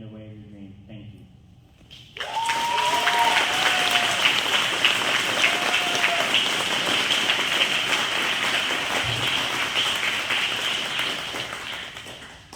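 Sustained applause from a graduation ceremony crowd (Cora Howe Class of 2022) breaks out after a quiet moment and keeps going as dense, steady clapping, with a few brief voices or whistles rising over it.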